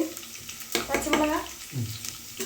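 Green chilies sautéing in a pan for mackerel curry, a soft sizzle with a few clattering stirs and scrapes at close range, fairly quiet.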